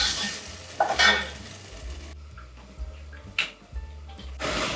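Onions and peppers frying in a pan for a Hungarian beef goulash, with stirring scrapes and bursts of sizzle over a steady low kitchen hum, loud and close, no talking.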